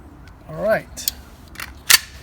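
A Walther PPQ paintball pistol has its slide racked, giving a few brief mechanical clicks and clacks that stand apart after a short spoken exclamation, close and fairly sharp.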